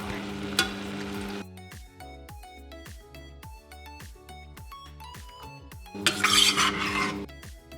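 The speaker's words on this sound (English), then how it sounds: "Now I am going to add some fresh milk, about a cup." Fresh milk, about a cup, pours into a cooking pot for a Sri Lankan chicken curry: a soft rushing splash that fades, then returns later, with plucked background music running throughout.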